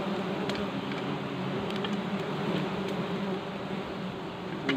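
A dense, steady buzz of a bee swarm fills the air at a honeycomb being cut, continuous and fairly loud throughout, with no one talking.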